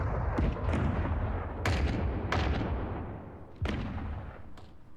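A mortar barrage as a sound effect: a run of heavy booming blasts, several close together, over continuous loud low rumble, with no talking.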